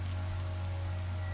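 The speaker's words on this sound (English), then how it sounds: "it's raining" Rain falling in the Minecraft video game with the Minecolonies mod, a constant dense hiss of rainfall with a low steady hum underneath and no voices.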